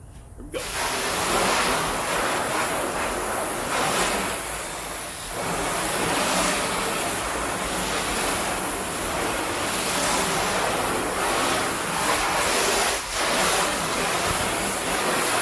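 A car being rinsed with a water spray after wheel and tire cleaner, a continuous loud hiss of spraying water running steadily with slight swells and no voices.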